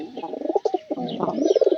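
A pigeon coos close up in a loft, a soft throaty run of rolling notes with a brief pause before swelling again.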